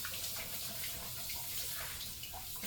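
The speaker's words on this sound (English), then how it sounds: "Then I have to wash my hands" Running tap water splashes steadily over hands at a kitchen sink during cooking, a continuous broadband rush with small splashy fluctuations and no talking.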